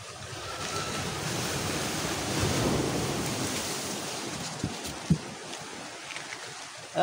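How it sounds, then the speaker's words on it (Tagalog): Strong, rough sea waves surge steadily in choppy, stormy weather along a Philippine coast, with wind buffeting the microphone and a few sharp knocks near the end; no one speaks. "Malakas na naman ang alon."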